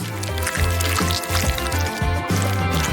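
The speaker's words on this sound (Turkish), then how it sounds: "Ben de erittim çikolatamı. Kalıbımıza döküyoruz." Melted chocolate poured into a mold while making a decorated cake, a steady liquid pour with soft squishy drips, fairly close.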